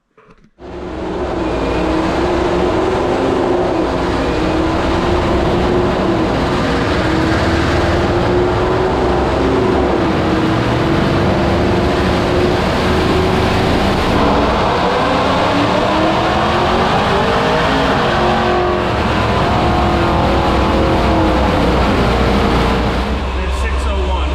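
A car engine on a dyno running Sunoco 260 GT Plus race gas roars loudly and continuously for over twenty seconds, pitch sweeping upward under hard acceleration, then cuts off abruptly.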